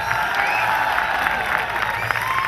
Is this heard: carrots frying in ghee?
no